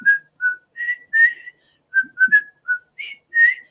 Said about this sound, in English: you have to try a whistle happy birthday